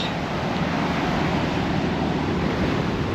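Ocean surf rolling onto a beach near the Rio Palace in Macau, a steady, full wash of breaking waves mixed with wind noise, continuous and fairly loud with no talking.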